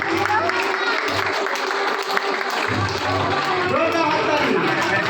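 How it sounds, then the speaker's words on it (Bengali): An audience at a Brahma Kumaris silver jubilee celebration in Sagarpur claps loudly and continuously, dense applause mixed with crowd chatter and murmuring voices throughout. "তাই জোরদার হাততালি"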